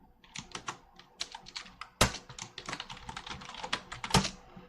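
Rapid typing on a computer keyboard during a Debian 12 software installation, with dense, irregular key clacks and a few heavier strikes, close and alone without talk.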